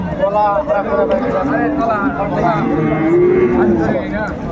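A Sahiwal cow at a cattle market gives a long, loud, close moo with wavering pitch, while people talk close by.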